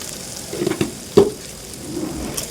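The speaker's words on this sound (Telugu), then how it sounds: "మొత్తం ముక్క ముక్క కలిసేటట్టు బాగా తిప్పేసుకొని ఒకసారి మూత పెట్టేసుకోవాలి" Spiced bean curry of flat broad beans with chilli powder, salt and turmeric being stirred in a pan, giving soft scraping stirs and a faint sizzle, with one sharper clink near the middle and no talking.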